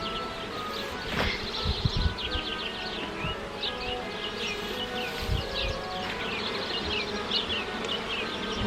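Honey bees buzz densely around an open beehive during an inspection, a close, steady swarm drone with occasional louder passes near the listener and faint handling knocks beneath.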